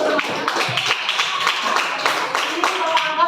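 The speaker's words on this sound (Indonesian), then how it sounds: "Tepuk tangan dulu." A school class of eighth-graders claps hands together in a classroom, a fairly short burst of mixed clapping with some rhythmic unison slaps, while voices talk over it.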